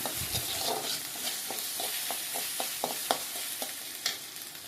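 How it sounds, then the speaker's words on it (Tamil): Onions and ingredients for a chicken gravy sauté in a pan under a continuous gentle sizzle, with regular scraping strokes of a spoon stirring close by. "நல்லா வதக்கி எடுக்கணும்."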